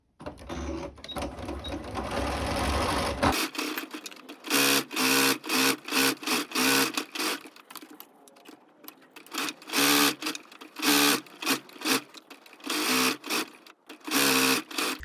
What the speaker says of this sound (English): now I'm just going to stitch both straps 1 centimetre seam allowance